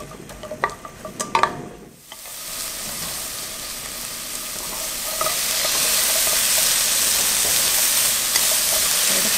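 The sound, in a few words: onion sizzling while stir-fried in perilla oil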